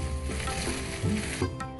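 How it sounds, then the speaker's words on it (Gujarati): Onions sauté in a hot pan with a brief, loud, continuous sizzle and a couple of soft stirring scrapes near the end; no talking. "ડુંગળીને બહુ લાલ નથી કરવાની જરૂર, થોડીક આવી રીતની સંતળાઈ જાય"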